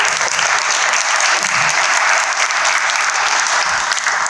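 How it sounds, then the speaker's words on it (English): A crowd at a community meet-and-greet for Burlington candidates claps loudly and steadily after a young speaker, a dense, even wash of many hands that lasts the whole stretch without a break. "Absolutely clap"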